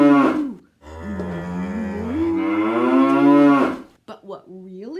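A cow moos loudly and close by in two long, drawn-out calls, then gives a shorter grunt at the end, with no other sound around it.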